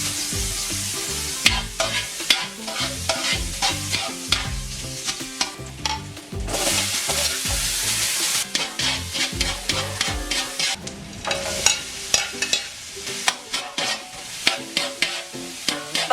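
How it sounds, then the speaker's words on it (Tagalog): Ginger, garlic and onion sautéing in hot oil in a pan, a steady loud sizzle with repeated stirring scrapes and clatter throughout, no talking. "maglagay ng mantika sa kawali at maggisa ng luya,"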